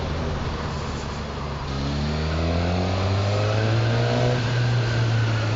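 A Katana motorcycle engine accelerates while filtering through traffic, its close, steady drone rising in pitch under constant wind rush.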